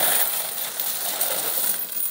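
Coins collected from vending machines are handled and poured, a steady bright jingle and clatter of metal pieces lasting throughout, close and fairly loud with no talk.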